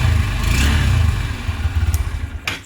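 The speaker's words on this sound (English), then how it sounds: "a bit of exhaust note." Exhaust note of a Honda CB200X motorcycle with a 184cc engine, a close, loud low-pitched throb that pulses rhythmically as it idles and is lightly blipped, without talk.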